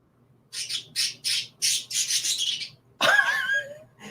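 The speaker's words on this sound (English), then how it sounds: "My birds over here are fighting." Pet birds fighting give a run of harsh, close squawks in quick bursts, then one long, louder screech with a shrill rising edge, all heard alone without talk.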